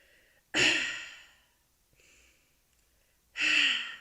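A person imitates heavy breathing with two loud, forceful breaths close to the microphone and a softer, shorter breath between them.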